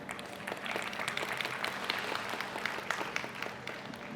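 Steady audience applause from a crowd at a live comedy show, a dense continuous patter of many hands clapping at even loudness, with no voices over it.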